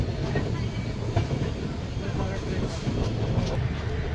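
The Bhubaneswar-Howrah Jan Shatabdi Express pulls into a station with a continuous low rumble of rolling carriages and faint wheel clatter. The noise stays steady and fairly loud throughout.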